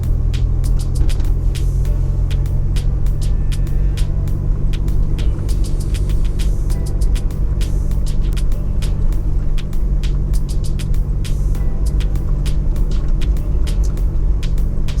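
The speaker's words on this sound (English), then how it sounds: "So have a look at bumpy ride right now, so enjoy it." Car driving a bumpy rural road in St. Elizabeth, Jamaica, steady low engine and road rumble with frequent sharp knocks and rattles from the bumps throughout.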